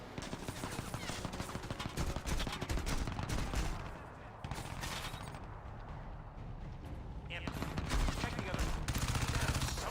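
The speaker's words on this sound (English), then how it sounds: "You're gonna take down that whole building with that LMG." Sustained LMG machine gun fire in Crysis 2 Remastered, dense rapid bursts with booming impacts and explosions continuing almost throughout, loud and busy.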